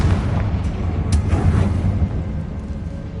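The Confringo explosive spell blast in Hogwarts Legacy, a loud booming burst with a rumbling tail that fades away, standing alone without voices.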